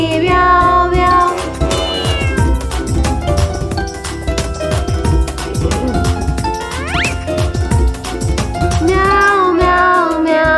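A voice imitates a cat with repeated sung meows over a bouncy, upbeat children's tune with steady percussion.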